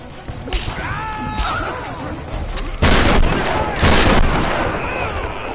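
Gunfire in Tomb Raider 2013, several loud close bursts of shots and blasts over a clattering background, with brief voice sounds in between.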